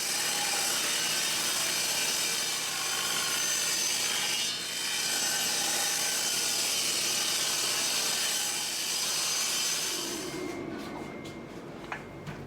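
A saw cutting dovetail spline stock from wood runs in one long continuous pass with a brief dip partway, rasping steadily and loudly, then stops and gives way to a few small knocks.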